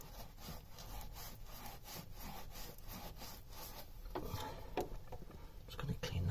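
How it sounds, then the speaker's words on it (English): A Beta Marine 38 engine part from a narrowboat being sanded by hand during a service, making a steady, close scraping rasp in repeated back-and-forth strokes that grows slightly louder toward the end, with no talking. "Get out a bit of a sand as well. A bit more sanding."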